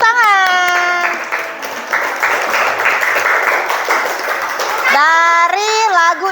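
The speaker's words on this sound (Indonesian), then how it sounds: "Yeay, tepuk tangan." Applause from children in a school classroom during a session on positive school culture, a broad burst of clapping between stretches of a woman's singing or sing-song speech at start and end.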